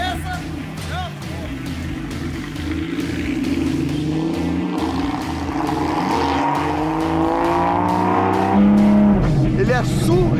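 A Porsche sports car in Sport Plus mode accelerates hard, its engine climbing steadily in pitch through the gears, loud from inside the cabin, with people talking excitedly over it.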